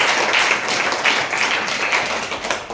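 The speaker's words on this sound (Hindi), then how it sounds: "तालियां बजा दो।" Audience clapping at a Ram Katha religious gathering during the eighth Navratri, a dense, steady patter of many hands filling the whole moment at a fairly loud level, with no voices on top.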